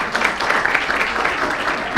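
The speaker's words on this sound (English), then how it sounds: "you can clap for him" Brief, moderate applause from an audience at a school board of education meeting, scattered claps forming a short steady patter for about two seconds.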